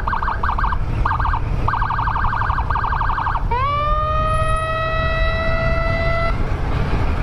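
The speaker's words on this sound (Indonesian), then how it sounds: "Tapi karena ada ambulan," An ambulance siren on an Indonesian road blares loud and close, first in rapid yelping bursts and then in a long steady wail.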